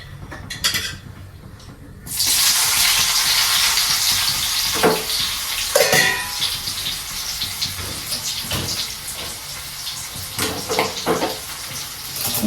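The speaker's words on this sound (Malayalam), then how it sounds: "സബോള ഇതാ വറുത്തെടുക്കുന്നത് കുറച്ചുകൂടി ഉണ്ട്" After a brief quieter start, a broad hiss of sliced onions frying in oil sets in, with occasional scraping and stirring sounds, close and steady.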